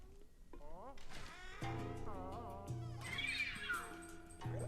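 A ghostly cat enemy in the video game Luigi's Mansion 3 gives wavering, meow-like cries over game music and effects, with someone talking throughout.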